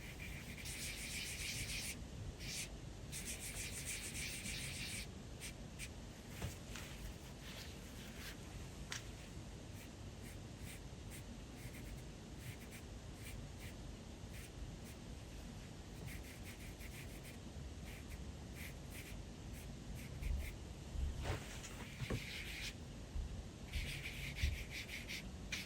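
A chamois is rubbed lightly over General's charcoal on a portrait drawing, making a faint, close, continuous soft scuffing with brief brighter swishes at intervals.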